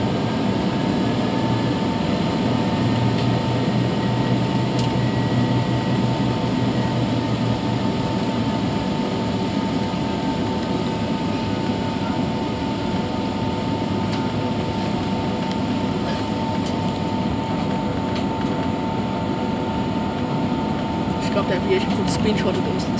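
Inside a British Airways economy cabin during takeoff on a London Heathrow to Frankfurt flight, a loud, steady engine and airflow roar fills the whole stretch without letting up.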